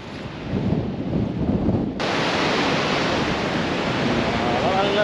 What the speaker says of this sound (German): Der Hengifoss ist jetzt nicht der höchste Wasserfall Islands, aber immerhin der vierthöchste und er sieht spektakulär aus.